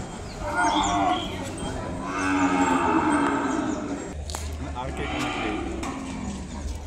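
Ongole cattle moo at a rural bull market, a drawn-out low lowing sound under the steady crowd noise and nearby talk.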